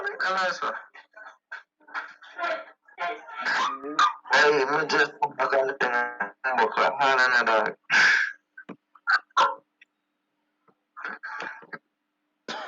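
Dog barks break through loud, overlapping human talk and shouting, a few short sharp yaps mixed in close by.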